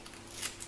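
Scissors cut a short piece of ribbon for a mini album, giving a couple of quick, soft snips with a crisper snip at the end. The sound is close and brief, with no talking.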